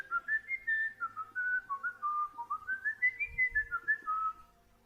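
A person whistles a wandering, bird-like tune, imitating a non-player character in an Unreal Engine MMO game; the melody runs continuously for about four and a half seconds, close and clear, with no talking.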